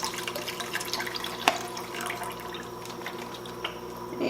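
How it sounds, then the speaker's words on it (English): Water running from a tap into a pot of beef broth, a steady splashing pour with a few drips, close and alone with no talk. "And adding a cup of water, so we end up with 5 cups of broth."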